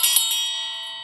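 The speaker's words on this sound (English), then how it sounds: "let's ring the bell for you guys who have earbuds or anything" A single bell is struck once, ringing out clear and close, then its bright metallic tone slowly fades away with no other sound.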